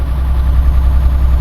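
A MAN TGX 480 truck with a 12-speed gearbox runs its engine in a loud, steady, close low rumble, heard alone for a moment.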